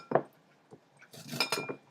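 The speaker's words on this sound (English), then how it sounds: "Take the back of the knife and you scrape down and get all the juicy bits" The back of a knife scrapes down a corn cob in a kitchen, set against a glass dish: a sharp clink, a faint tap, then a short rasping scrape with little clicks, close and quiet, with no talking.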